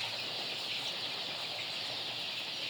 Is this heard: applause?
no